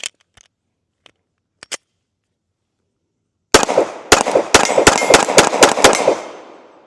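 A Kimber Custom Two Tone Next Gen 1911 pistol fires a rapid string of about eight loud, sharp shots in close succession, with echoing decay, after a few faint clicks of handling.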